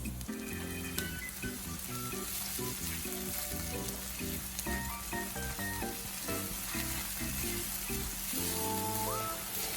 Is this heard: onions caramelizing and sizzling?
yes